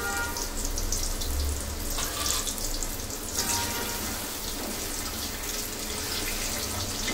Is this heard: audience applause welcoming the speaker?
no